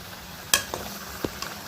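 Mutton sautéing in a hot pan: a sharp sizzling scrape as it is stirred, followed by a couple of softer clinks and stirs, close and alone.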